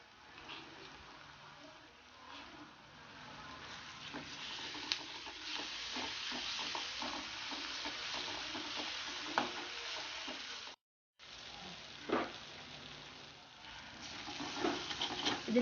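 Crushed ginger, garlic and garam masala fry in a pan for prawn biryani, giving a continuous soft sizzle with scattered spoon scrapes and stirring, quiet and close, with a brief silent gap partway through.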